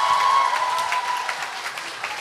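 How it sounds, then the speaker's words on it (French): Congregation applauding at a church baptism service, a full round of clapping that starts strong and gradually eases off toward the end. "On peut l'applaudir bien fort"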